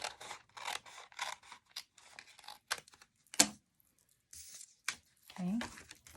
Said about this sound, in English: So I'm actually going to trim this piece of Parakeet Party to match my envelope flap.